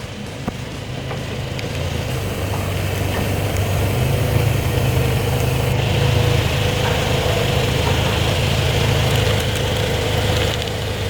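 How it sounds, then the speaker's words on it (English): Car engine rumbling at idle and low speed while the car rolls over a Yu-Gi-Oh card in a TitanShield sleeve on the ground, a steady loud drone that swells slightly partway through. "Let's see if it can handle a car."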